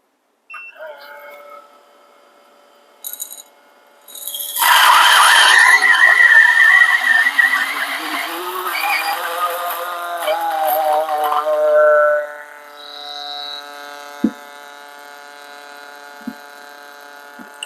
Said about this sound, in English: Okay, let's switch on the grinder.